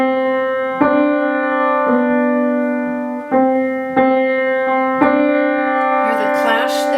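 Piano playing Reinecke's Praeludium with the tenor and bass parts redistributed between the hands, slow sustained chords struck a few times and left ringing, close and clear, with a brief rustle near the end.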